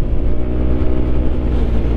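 A large truck speeding past on a highway, a heavy, loud low engine and tire rumble that stays close and constant for the short moment.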